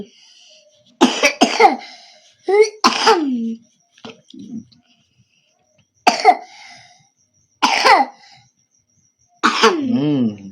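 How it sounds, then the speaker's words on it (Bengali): A child coughs in short, harsh bursts, about five separate fits spaced a second or two apart with quiet between, close and loud indoors, some bursts ending in a throaty, moaning tail. "কাশি হয়েছে, থাম।"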